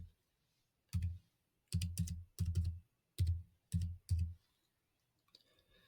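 Bursts of keystrokes on a computer keyboard, six short clustered flurries of clicky typing separated by brief pauses, fairly close and moderately quiet, with no voices.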